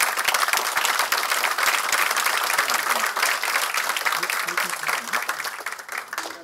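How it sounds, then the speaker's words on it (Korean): A crowd applauds at a Democratic Party floor leader election for candidate Hong Young-pyo, sustained dense clapping that holds steady and thins slightly near the end, with voices murmuring underneath. "우리 홍영표 의원님께 큰 박수 부탁드립니다"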